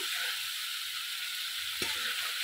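Spice paste for a Bengali mixed fish curry fries in oil in a pan with a steady, bright hiss and crackle. A soft stir or scrape cuts in near the end.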